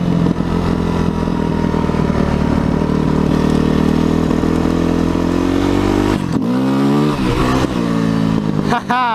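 A motorcycle rides at speed with a loud, steady engine drone, then the throttle drops and blips in quick revs near the end, heard close from the rider's position.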